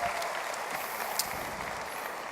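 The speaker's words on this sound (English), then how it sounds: "So give yourself a round of applause for being here." Audience applause at the OnePlus 6 smartphone launch event forms an even, continuous hiss of many hands clapping in a large hall, moderately loud and steady with no speech over it.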